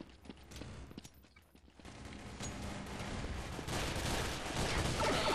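Bursts of rapid video game gunfire crackle in dense volleys, starting with sharp separate shots and building into continuous automatic fire, moderately loud.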